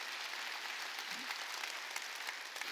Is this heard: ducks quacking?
no